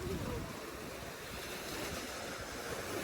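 Ocean waves wash up on Cleveland Beach in a continuous loud roar of surf, with wind noise and no clear pauses.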